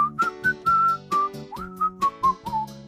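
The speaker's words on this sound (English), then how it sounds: "Whistle softly." A person whistles a soft, lilting melody of short rising and falling notes in a steady rhythm, close and clear with nothing else behind it.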